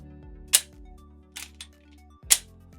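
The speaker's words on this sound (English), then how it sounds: "Let's check out the slide release when it's got the mag in it." The slide release on a Walther PDP pistol is worked with a magazine inserted, at a tabletop. It gives three sharp, close metallic clicks spaced about a second apart over a faint steady hum.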